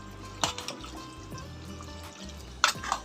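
Water running and splashing softly as it drains from cooked pasta, with a few sharper drips and spatters, fairly quiet and close, over a low background hum.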